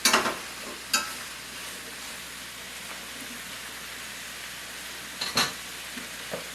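Beets and onions frying in a pan give a faint, soft, continuous sizzle, broken by a few sharp clatters near the start and toward the end, with no talking.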